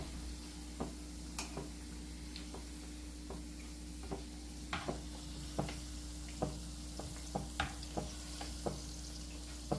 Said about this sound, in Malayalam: ബാക്കിയുള്ളത് നമുക്ക് ഇതുപോലെ തന്നെ ഒന്ന് ഫ്രൈ ചെയ്തെടുക്കാം